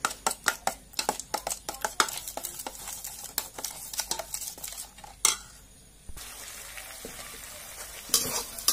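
Chicken curry with sour yogurt sautéing in a pan: a busy run of scraping spatula strokes and clinks over a steady sizzle, which then thins to a quieter hiss before a few final scrapes.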